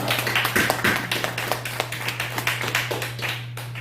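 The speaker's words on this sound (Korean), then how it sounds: "우리 저기 반주해 주신 우리 장 집사님 박수 한번 쳐드리겠습니다" A church congregation claps for the deacon who played the piano accompaniment, a crisp run of close hand claps over a low steady hum, tapering off at the end.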